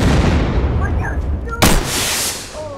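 An RPG launched in the survival shooter Unturned during a military roleplay tank fight, a single sudden loud blast midway through, over steady background noise and faint game tones.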